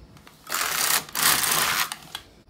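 A domestic knitting machine carriage sweeps across the needle beds knitting rows of Jacquard colourwork, making two long rasping passes with clicks and clacks around them, close and fairly loud.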